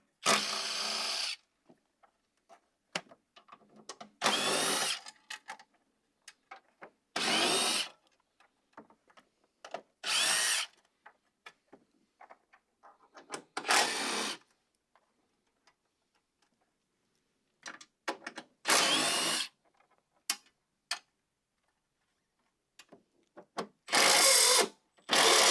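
Power tool spinning out bolts from a 1999–2006 GMT-800 Chevy/GMC battery tray, heard as repeated short bursts of whirring, about eight separate runs with quiet gaps and small clicks in between.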